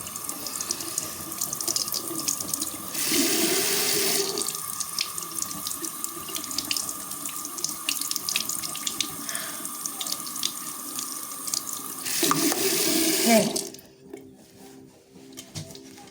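Water runs steadily from a tap into a sink for about thirteen seconds, a continuous close hiss and splash with brief louder gushes, then shuts off, leaving a quieter drip and rustle.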